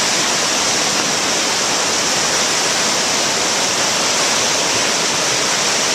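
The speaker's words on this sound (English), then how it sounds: "Ooh, the water's coming up." Floodwater rushes past in a steady, loud, unbroken roar that fills the whole clip with no talk over it.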